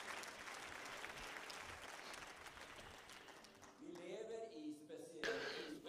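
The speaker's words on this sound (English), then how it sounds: "Let's give them another applause." A church congregation applauding during a Sunday service, a broad even wash of clapping that fades out, followed by someone speaking.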